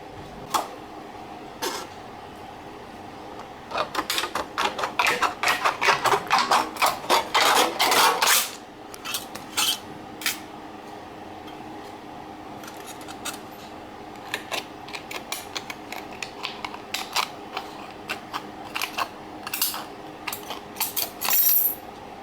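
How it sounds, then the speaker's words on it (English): Tin snips chop through thin sheet metal in rapid runs of sharp, clicking cuts, one dense burst early on and then sparser snips with pauses, close and crisp. "So now you just get some tin snips and cut this out."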